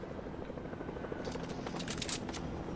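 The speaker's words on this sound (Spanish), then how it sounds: "hay otro, hay otro helicóptero" A helicopter in the Fortnite video game thrums continuously in the background, with crackling bursts layered over the steady rotor noise and no talk.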